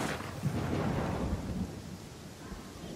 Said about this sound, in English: Actually, a proper storm.